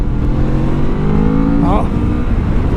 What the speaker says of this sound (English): I want to check out this Ninja 650 motor.